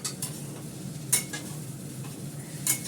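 Egg stirred and fried in a steel pan with soy sauce, giving a soft continuous sizzle under several sharp metallic scrapes and clinks of a utensil against the pan.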